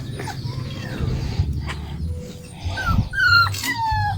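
A dog at a bahay kubo house whimpers and whines in rising, wavering cries. Several short yips and moans come close by over faint background noise, with no talking.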